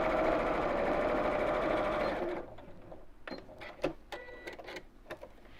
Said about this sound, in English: So I'll go backwards again and sew straight down.